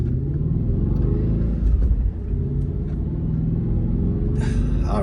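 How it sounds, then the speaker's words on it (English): An Audi RS4 engine idles while warming up on a scenic road, a loud, steady low rumble with a slight lift in pitch partway through, heard alone without talking. "RS4 is ready to go. Engine is warming up nicely."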